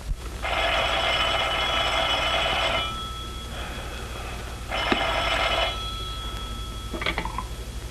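An old-style 1930s telephone bell rings in two long trills separated by a pause, followed by a brief clatter.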